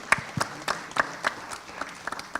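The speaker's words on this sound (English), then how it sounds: "Round of applause for him." Light applause from a quiz audience at a financial literacy competition, a scattering of separate claps close by at an uneven rhythm rather than a full ovation.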